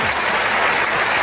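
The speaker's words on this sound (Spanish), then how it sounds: "Alguien tiene que aplaudir más que eso" A church congregation claps together in a short, dense burst of applause that fills the room loudly and evenly throughout.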